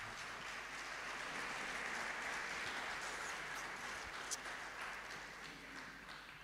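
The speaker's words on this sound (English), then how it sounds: "Big round of applause, ladies and gentlemen" Applause from a workshop and expo audience, a steady, fairly faint wash of clapping that holds for several seconds and tapers slightly at the end.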